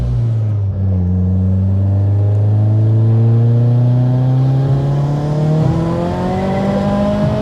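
A big-turbo Opel Corsa OPC revs hard with a loud, continuous engine note climbing steadily in pitch, tires spinning as it pulls through third gear, no voices over it.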